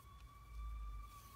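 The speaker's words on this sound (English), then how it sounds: "here comes a siren right down my street" An emergency vehicle siren passing down a residential street, a steady high wail heard at a moderate distance over a low rumble of traffic, brief and with no talking.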